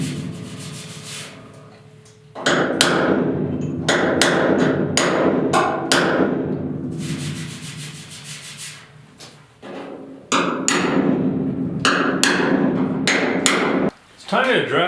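Hammer blows on the dented sheet-metal cab of a 1972 Ford 4x4 truck ring out in quick, sharp clusters, close and loud, with short pauses and scraping sounds between the runs of strikes.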